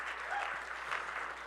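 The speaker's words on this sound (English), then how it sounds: "Can you give the City Center Church a round of applause" Audience applause for City Center Church fills a church auditorium, a steady even patter of many hands clapping, moderately faint and heard on its own.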